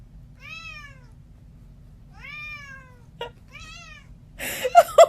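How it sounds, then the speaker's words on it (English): A cat with a toy stuck to its paw meows several times in drawn-out, plaintive calls spaced apart, close and clear over a quiet low hum, ending with a couple of louder bumps and rustles. "This cat was playing with a toy and it got stuck to its paw."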